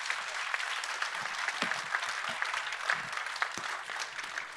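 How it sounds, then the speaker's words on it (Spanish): A room full of people clapping steadily, dense sustained applause from start to finish, at a panel on urban transport energy transition. "Les pido por favor un aplauso para ellos"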